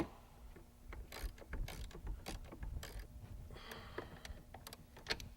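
Nuts are tightened down on a conversion kit for a Marquis, heard as quiet, irregular metallic clicks and ratcheting taps close by.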